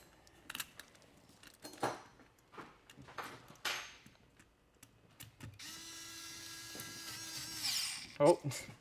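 Screws driven into a thread plate on an FTC competition robot, a steady mechanical whir of a power driver running for about three seconds amid scattered clicks and handling noises, with people talking nearby.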